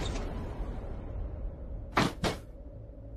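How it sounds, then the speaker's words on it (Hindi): A door pushed shut, two quick knocking thumps close together late in the span, following a low indoor background hum with no talk. "दरवाजा भेड़ दिए, बंद नहीं करने की"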